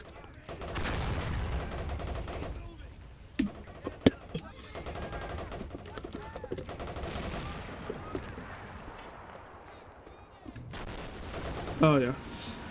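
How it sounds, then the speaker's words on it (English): Mortar fire from a fortress in a war video game, heard as scattered booming impacts and sharp bursts, moderately close, mixed with ongoing battle noise while a person talks over it. "those are the mortars from the fortress"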